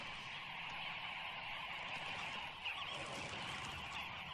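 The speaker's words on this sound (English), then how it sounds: "The noise and bustle of dozens of birds coming and going" A flock of dozens of birds at a Kalahari waterhole makes a dense, continuous chorus of calls and bustle, steady and fairly loud throughout with no pauses and no talking.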